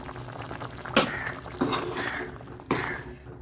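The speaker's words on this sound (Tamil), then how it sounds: "அப்படியே ஒரு பத்து நிமிஷம் கொதிக்கட்டும் குழம்பு" Soft bubbling of a dried-fish curry with vegetables boiling in a covered pot, broken by a few sharp clinks of a lid or utensil against metal.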